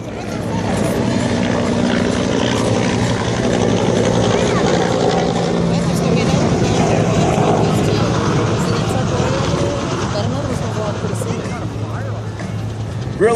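An AH-1 Cobra attack helicopter and a Huey helicopter fly at an air show in Peachtree City near Atlanta, their loud, steady rotor thrum and turbine whine filling the air continuously with no break.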